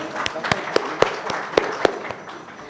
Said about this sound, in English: Let's give a big round of applause to ourselves